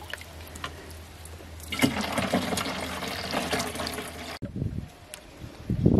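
Collected rainwater pours steadily into a container with a gushing, splashing rush that builds and holds for a few seconds, then stops abruptly before a few closer knocks and splashes.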